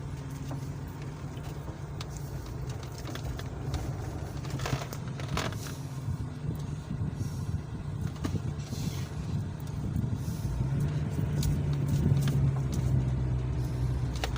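A car engine running at low speed in reverse on a village road, a steady close rumble that builds slightly toward the end, with faint background noise and no speech.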